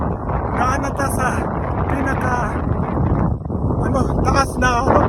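Strong wind roars and buffets steadily across the high section of the Cebu-Cordova Link Expressway bridge in the Philippines, a constant rumbling gust with a voice talking at points.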